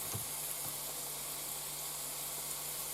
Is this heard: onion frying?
yes